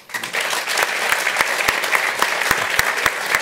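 Applause from an audience at a quantum computing panel, a steady wash of clapping with a few sharp individual claps standing out, sustained throughout.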